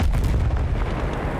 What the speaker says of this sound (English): There's explosions and shit,